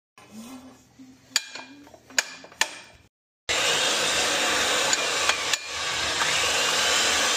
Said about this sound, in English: Let's thread some pipe.